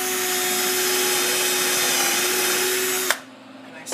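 A power drill with a Forstner bit whines steadily for about three seconds, boring into wood, then stops abruptly, leaving quiet room noise and a brief clunk.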